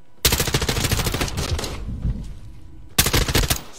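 Rapid automatic M4 rifle fire in Modern Warfare 2, a loud close burst of dense shots that briefly trails off, then another sharp burst near the end.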